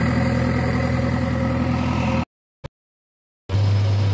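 A vehicle engine at a quarry in Kerala climbs an uphill route and changes gear, a steady loud droning hum that cuts out abruptly into silence before resuming with a deeper, heavier tone.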